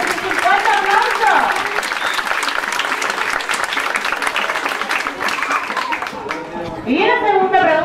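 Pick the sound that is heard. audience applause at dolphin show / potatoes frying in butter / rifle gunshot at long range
audience applause at dolphin show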